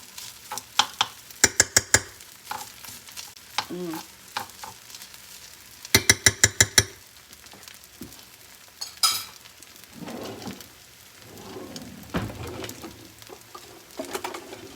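Steady crackling sizzle of spring roll and shrimp fried rice ingredients frying in a pan, with bursts of clattering spatula scrapes and knocks throughout; no one speaks.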